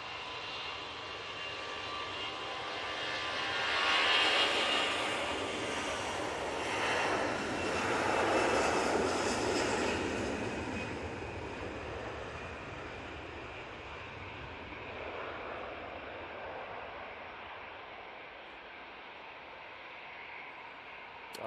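An airliner lines up and departs Manchester Airport bound for Palma de Mallorca, its engine roar swelling to a loud broadband peak, then slowly fading as it climbs away, with no talk.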